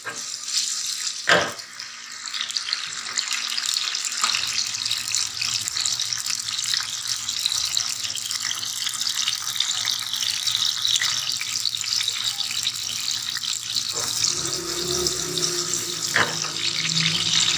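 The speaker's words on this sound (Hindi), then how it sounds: "अब हमारा ऑयल गर्म हो चुका है, इसके अंदर हम टमाटर डालेंगे।" Tomatoes dropped into hot oil for restaurant-style aloo palak, giving a steady, loud broadband sizzle that carries on throughout with a brief sharp clatter near the start and again toward the end.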